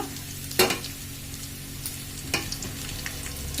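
Ginger paste frying with fried onion gives a soft, steady sizzle, broken by two sharp spatula scrapes or clinks against the pan.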